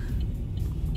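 Car interior on a slushy road after thaw, a steady low rumble of tyres and engine filling the second with no talk, faint higher hiss from wet road spray.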